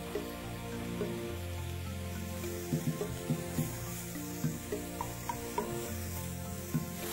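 Shallots and shiitake mushrooms sizzle in oil in a pan, a quiet steady fry with soft stirring clicks and scrapes recurring throughout.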